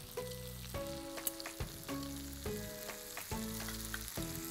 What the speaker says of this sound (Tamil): அப்படியே நல்லா அந்த பூண்டு அந்த நெய்யிலேயே வறுந்து வரட்டும்